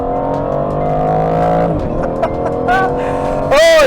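An Aston Martin Vantage F1 on a race track, its engine holding a loud steady note up close, dipping, then rising again in a sharp rev near the end.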